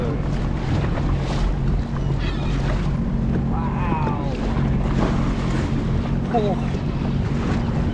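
Steady wind buffets the microphone over the low hum of a Sea-Doo's engine on the water off Long Beach, with water sloshing and faint voices in the background.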